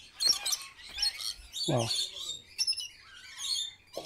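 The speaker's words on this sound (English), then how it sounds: "I hear only the birds chirping." Birds chirp and tweet in a quiet Mexican forest wilderness, with several clear, close calls scattered over a near-silent background, and one person briefly exclaims in between.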